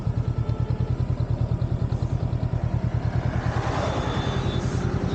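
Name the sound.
Honda NX 500 motorcycle riding in gear without throttle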